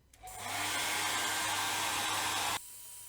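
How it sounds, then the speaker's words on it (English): A hairdryer switches on and blows steadily over watercolor masking fluid, a loud even rushing hiss with a low motor hum that cuts off after a few seconds. "So I'm about to challenge that rule with my hairdryer."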